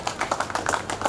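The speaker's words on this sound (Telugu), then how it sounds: "ప్లీజ్ క్లాప్స్ ప్లీజ్, చప్పట్లతో." An audience at a school class reunion applauding a teacher, steady overlapping hand clapping at moderate loudness, brief and continuous.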